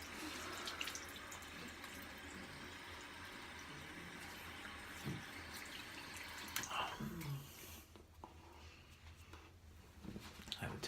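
Tap water runs steadily in a cramped home bathroom while sandalwood shaving lather is rinsed off the face, with splashing that thins out toward the end; brief handling noises occur, and no one speaks.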